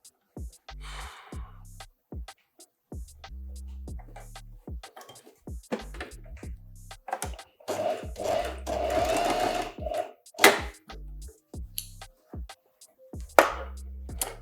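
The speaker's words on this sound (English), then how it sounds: "So now I'm sewing, well, I'm closing my collar stand." A domestic sewing machine stitches closed a shirt collar stand in short, stop-start bursts of rapid mechanical chatter, close and fairly loud with quiet gaps between runs.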